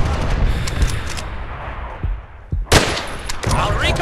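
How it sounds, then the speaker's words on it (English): Artillery and gunfire in Call of Duty: World at War on the Breach multiplayer map: a roar of battle fades, then sharp close explosions and a burst of fire crack loudly near the end amid scattered shots. "artillery!"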